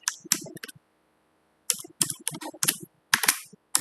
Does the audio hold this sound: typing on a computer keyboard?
yes